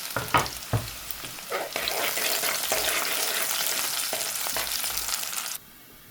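Masala for prawn biryani frying in hot oil while being stirred, a loud steady sizzle with scraping stirring strokes, close by and with no talking, until it cuts to quiet near the end.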